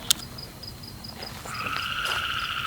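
Frogs call outdoors: a rapid series of short, high chirping croaks, then a louder sustained trilling croak joins, with insect-like night ambience behind.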